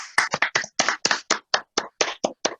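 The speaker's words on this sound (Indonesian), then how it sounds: "Tepuk tangan yang paling meriah untuk Bapak Benjamin Bonaparte Dignity." At a business talkshow event, the audience claps to welcome a speaker: about a dozen crisp, separate claps in a steady, evenly spaced rhythm, up close against otherwise quiet surroundings.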